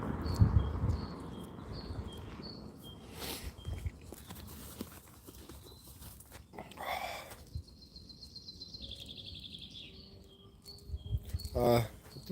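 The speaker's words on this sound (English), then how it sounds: "I'm not sure if you guys can hear the bird song right now," Birdsong on a countryside walk: clear chirps and a sustained trilling call rise above rustling footsteps and outdoor background noise, with a few brief bright calls near the end.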